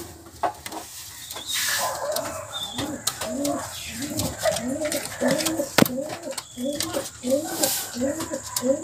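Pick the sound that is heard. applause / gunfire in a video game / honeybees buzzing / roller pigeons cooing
roller pigeons cooing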